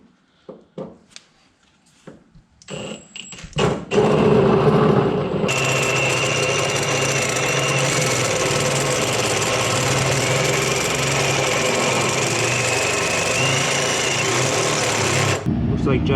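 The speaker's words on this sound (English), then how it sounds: "we have to drill a 3/4 bolt into the pitman arm" Power drill boring a 3/4-inch bolt hole into an old, greasy steel pitman arm from a Jeep Cherokee, a steady loud whirring grind after a few clanks and handling knocks, running unbroken for about ten seconds before stopping.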